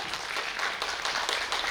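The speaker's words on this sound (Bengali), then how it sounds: "আরেকটু করতালি হয়ে যাক" Audience applause at an award ceremony on the Sisir Mancha stage honouring the reciter Bratati Bandyopadhyay: a dense, continuous wash of many hands clapping, steady and moderately loud throughout.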